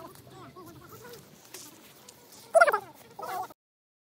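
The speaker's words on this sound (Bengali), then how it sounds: "এগুলো হচ্ছে ইন্ডিয়ান হাঁস" Indian ducks, a Bangladeshi and Indian cross, at the India–Bangladesh border near Akhaura give two short, loud bursts of quacking after a stretch of someone speaking.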